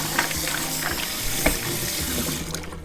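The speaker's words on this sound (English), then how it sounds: "So I'm just rinsing the mussels for a second time" Mussels rinsed under a running kitchen tap give a continuous hiss of water, with brief clicks and clatters as shells shift against each other, close up and at moderate volume.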